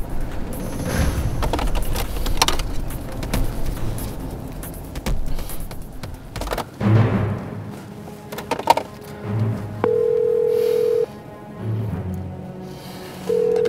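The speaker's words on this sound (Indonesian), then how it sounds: "Kenapa nggak diangkat angkat Mai?" Phone ringback tone repeating unanswered, steady beeps in pulses from about ten seconds onward, after a busy stretch of road traffic and vehicle rumble.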